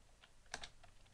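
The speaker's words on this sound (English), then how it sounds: "I continue typing, typing stuff in this terminal" Soft keystrokes on a computer keyboard while typing in a Linux terminal, a few light taps and one sharper cluster of clicks in a quiet room.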